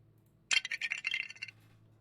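A jingling soundboard effect gives a bright, metallic shimmer of small clinking tones that starts suddenly, rattles for about a second and then cuts off, close and with no voices.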